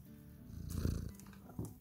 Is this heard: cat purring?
yes